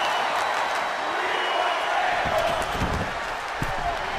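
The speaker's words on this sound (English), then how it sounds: "Crowd chanting for tables in this one." Dense crowd noise fills a WWE 2K22 arena as fans chant for tables, a continuous roar with a few dull impacts thudding underneath.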